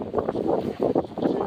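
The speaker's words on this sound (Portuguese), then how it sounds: "Nossa, que vento." Strong wind gusting over an outdoor vegetable garden with large lettuces under frost-protection fabric, a rough, buffeting roar hitting the microphone in uneven surges.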